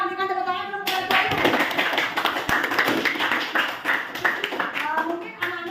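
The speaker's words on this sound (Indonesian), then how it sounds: "Berikan tepuk tangan dulu buat tuan." A classroom of students claps together after a teacher's prompt, a dense burst of hand claps that starts sharply and carries on steadily for several seconds, with a little talk mixed in.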